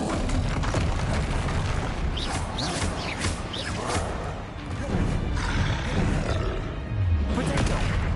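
Spell blasts from Bombarda and Confringo burst repeatedly in Hogwarts Legacy, booming crashes and roaring impacts layered over continuous game noise and music, loud and dense throughout.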